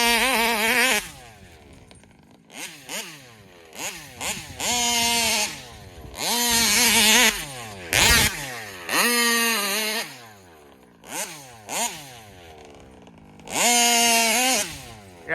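A Taylor RC 35 reed engine in an RC car revs hard in repeated bursts, each a rising buzzing wail that falls away between runs, loud and close with warm-clutch bashing outdoors.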